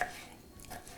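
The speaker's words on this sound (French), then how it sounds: "Je vais le hacher finement" A single garlic clove is finely chopped with a knife, giving a faint, brief patter of soft taps on a board.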